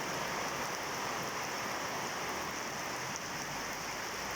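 Steady rain falling in Vang Vieng, Laos, a continuous, even hiss of drops on surfaces with no pauses or voices, close and moderately loud from start to finish.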